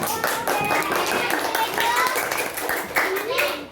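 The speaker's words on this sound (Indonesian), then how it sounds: "Kembali kita berikan tepuk tangan untuk teman yang telah sampai" Classroom applause for a student group after their presentation, with scattered, uneven hand claps from children mixed with a teacher's voice talking over them.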